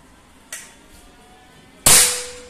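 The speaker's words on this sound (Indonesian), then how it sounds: "Coba nembak siluet." A Predator OD 38 PCP air rifle fires at a silhouette target: two sharp, close cracks with short fading tails, the second much louder than the first.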